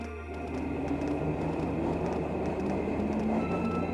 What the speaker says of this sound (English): The trams are still running, right?